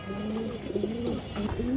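A female pigeon coos in low, rolling murmurs close by, a few drawn-out phrases over steady background hum, without voices.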